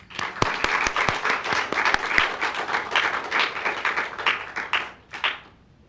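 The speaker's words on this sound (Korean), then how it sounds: "박수 한번 다시다." A church congregation at a Wednesday worship service breaks into applause, a close, lively burst of many hands clapping with sharp individual claps, thinning out and stopping near the end.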